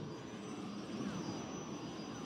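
Aircraft engines of dive bombers in the space battles of Star Wars Battlefront II (2005), a steady, continuous roar with a faint high whine running through it.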